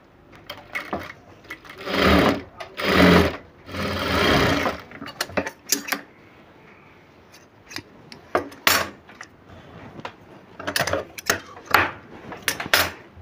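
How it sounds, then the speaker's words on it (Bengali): A sewing machine stitches the neck fabric of a blouse in several bursts of whirring runs, with pauses and small handling clicks and taps between stitching passes. "এই গলার কাপড়টা প্রথমে সেলাই করব।"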